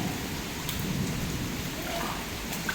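Heavy rain from Typhoon Danas in Taiwan, pouring steadily as a dense, even wash of noise with a few faint rumbles, no voices.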